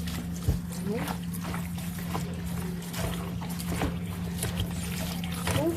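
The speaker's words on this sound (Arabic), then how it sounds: "لازم تغسلها كويس قوي في الميه اهي" Freshly picked molokhia leaves being swished and rinsed in a basin of water, with steady splashing and trickling close by under a constant low hum, and someone talking over it.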